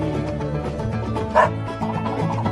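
A dog's bark comes through once, briefly, over loud country-style music that plays throughout.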